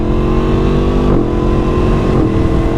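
A Yamaha MT10 motorcycle, freshly repaired after engine failure, hums along on its first test ride, a steady close engine drone with a brief dip and rise around the midpoint under heavy wind rush.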